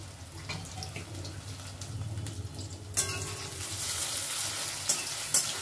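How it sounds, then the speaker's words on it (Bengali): Marinated soybean chunks fry in about three tablespoons of white oil in a wok, a steady close sizzle with occasional stirring scrapes, the crackle growing denser and brighter in the second half. "এবার ম্যারিনেট করা সোয়াবিনগুলো একটু ফ্রাই করে নেব।"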